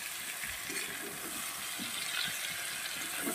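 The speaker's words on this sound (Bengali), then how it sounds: "তো এই পর্যায়ে আমি ভেজে রাখা ব্রোকলি আর আলুটা দিয়ে দিলাম। তো এটা দিয়েও আমি 2-3 মিনিট কষাবো।" Fried broccoli and potato tossed with vegetables in a pan give a steady close sizzle, with soft scraping stir strokes recurring every half second or so and no voices.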